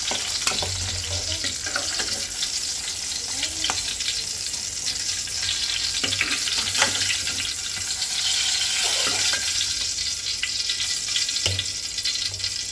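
Stuffed brinjals fry in a pan with a steady, close sizzle and occasional stirring clinks throughout.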